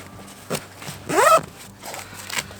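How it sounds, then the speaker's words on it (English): A zipper on a Helikon-Tex Alien bag's flaps is drawn shut with one short, close rasping pull, framed by a few soft handling rustles in an otherwise quiet room. "zip them all in."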